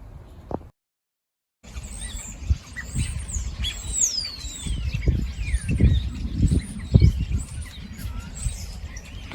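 A dense chorus of many birds chirping and twittering at once, continuous after a brief silent gap, over low rumbling handling noise.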